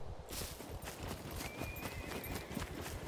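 A horse in the survival video game Scum moves over ground with dull hoof thuds in a steady gait, quiet and blended into a rough, noisy game background.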